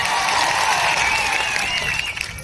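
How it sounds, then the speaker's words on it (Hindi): Crowd claps at an outdoor World Tribal Day gathering in India, continuous applause at a fairly loud, even level with some faint tonal sounds above it before it eases off near the end. "एक बार जोरदार आपके लिए तालियां बजा दी जाए"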